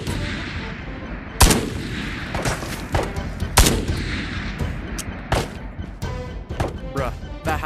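A Dragunov sniper rifle in the VR shooter Tabor fires several sharp, loud single shots spaced a second or two apart, with bolt and handling clatter between them.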